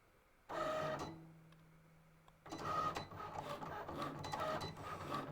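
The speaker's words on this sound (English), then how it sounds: "the nice thing about the Cricut Explore 3 is it cuts super fast, so we won't have to wait long" A Cricut Explore 3 cutting machine runs close by with a whirring motor and carriage movement in two bursts, a short one then a longer busy stretch, broken by a quiet pause. There is no speech.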